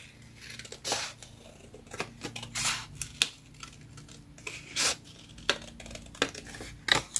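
Scissors snip through paper while a handmade scrapbooking card with cut-out windows is trimmed: a string of short, crisp cutting strokes at an uneven pace, close and moderately quiet, with no talking.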